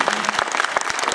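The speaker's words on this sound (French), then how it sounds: "vous pouvez l'applaudir" An audience gives a short burst of clapping for actress Julie Bernard at a film screening, close and lively, with no speech.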